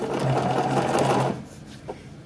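A sewing machine stitches swim trunks in a rapid, close whirring burst lasting over a second, then stops, leaving quieter handling noise and a small clack.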